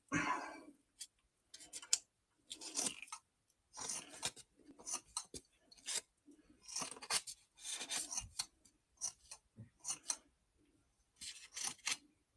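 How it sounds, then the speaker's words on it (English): Blunt paper scissors snip through folded paper in a string of short, close crunching bursts separated by brief pauses, with no talking over them. "These are not very sharp scissors. They're sharp for paper, not much else."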